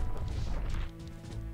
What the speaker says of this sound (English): I'm just breaking up barrels, because breaking barrels is fun.